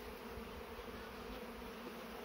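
Honey bees buzz around a spring beehive during a hive box rotation, a dense continuous drone close by and fairly quiet, with no talking.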